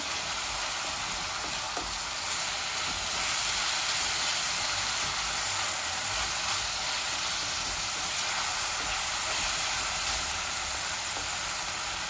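Ginger and garlic sizzle in hot oil in a pan, a continuous, fairly loud frying hiss that runs steadily from start to finish with no one talking.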